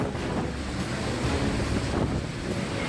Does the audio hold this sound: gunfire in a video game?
no